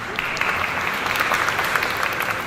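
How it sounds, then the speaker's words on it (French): An audience applauds to welcome a speaker, a continuous dense wash of clapping from a large room, steady and even throughout. "Je lui cède la parole sous vos applaudissements"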